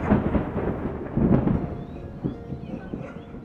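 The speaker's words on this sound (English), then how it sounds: "It was a dark and stormy night." Rolling thunder rumbles through a stormy night with steady rain, a dense low roar swelling around the middle and then settling into a continuous background wash.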